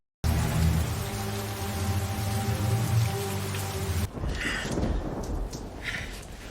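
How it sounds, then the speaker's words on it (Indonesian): Steady rain pours over house rooftops, a dense continuous hiss with a low rumbling undertone of thunder, shifting partway through to a rougher, heavier wash with brief brighter splashes. "suara hujan yang menghantam atap-atap rumah"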